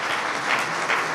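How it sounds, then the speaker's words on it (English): An audience at an annual citizen of the year awards dinner in Lapeer, Michigan breaks into a short burst of steady, moderately distant applause from many hands. "If we could get a round of applause for Pastor Jeff."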